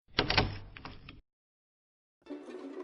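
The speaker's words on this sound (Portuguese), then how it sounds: "Podia-se ouvir a porta sendo destravada." A door being unlocked in a horror story scene: a quick cluster of sharp metallic clicks and rattles, then silence, then a low rumbling creak as it begins to move.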